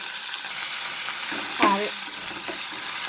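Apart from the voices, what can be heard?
ginger and garlic paste frying with onions in pan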